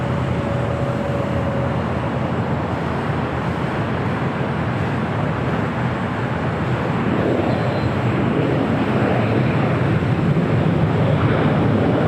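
A Starlux airliner flying in toward LAX makes a continuous loud jet roar that holds steady and grows a little rougher toward the end, with no voices over it.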